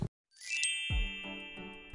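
A bright notification bell dings once, clear and close, with a short chime and a long ringing tail, alone and with no talk.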